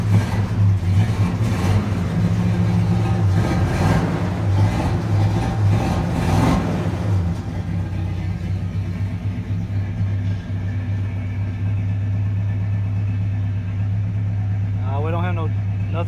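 A GMC Squarebody pickup truck runs after a cold start, its engine holding a steady low, loud idle throughout, with rougher revving in the first seven seconds and a person talking over it.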